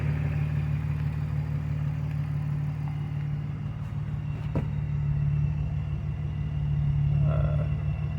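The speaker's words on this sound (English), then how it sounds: "since the engine's running, let's take a look at the air-fuel ratio" A BMW engine runs steadily at idle, a constant low rumble with light clatter throughout and a brief sharp click midway.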